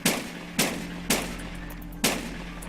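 Gunshots fired at an ostrich in the video game Rimworld, four sharp single cracks spaced about half a second to a second apart, each with a short decaying tail, loud and close over a low hum.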